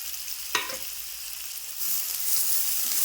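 Chopped onions frying in a pan for a cashew paneer masala, giving a steady close hiss of oil with a brief louder stir or clatter early on, the sizzle growing brighter and fuller toward the end.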